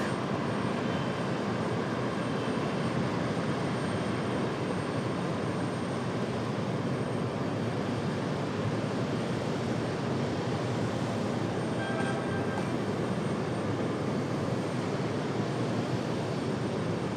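Aircraft noise at Raleigh-Durham airport as an Aer Lingus jet passes, a steady broad roar holding at constant loudness throughout, with no voices.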